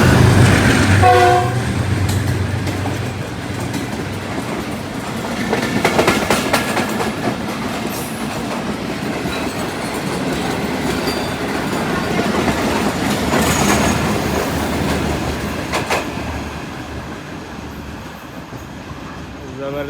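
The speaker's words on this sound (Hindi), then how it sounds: "रात की रानी रावल एक्सप्रेस गुज़र गई है लाला मूसा जंक्शन से।" The Rawal Express train passes through Lala Musa Junction with a loud, steady rumble and clatter of wheels that lasts the whole time. Horn blasts sound near the start.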